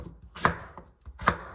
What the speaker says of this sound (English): Again, 1, 2, 3 cuts, and then maybe around 1 centimeter thick, cut into this size.